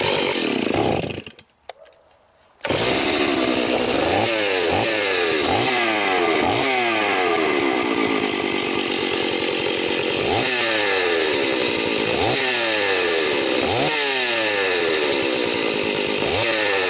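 A Stihl 038 chainsaw, either a stock 038 AV Super or an MS380 Farmertec kit build with its muffler refitted, starts after a brief pause and then snarls loudly, revving up and down repeatedly as it bites through wood.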